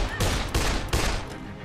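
Rapid gunfire bursts in the video game Dead Island, three or four loud close shot clusters in quick succession over about a second and a half.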